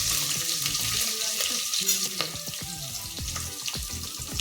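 Green chillies fry in hot oil, a steady bright sizzle with scattered crackles and pops, plus occasional stirring scrapes, close and fairly loud throughout with no voices.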